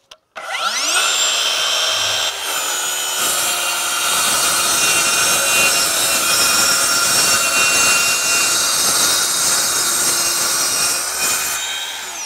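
Ridgid track saw cutting wood along a marked line: a loud, close, continuous whining cut that spins up fast, holds steady for about ten seconds, then winds down, with no talk.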